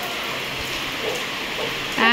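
Steady rain falls outdoors, a continuous hissing patter with no breaks, before a voice briefly starts at the very end.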